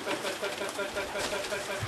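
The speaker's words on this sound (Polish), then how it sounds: "I zaraz te gołębie powinny wejść." Racing pigeons coo softly as they enter the loft, with low repeated calls and light bird movement, while people talk quietly in the background.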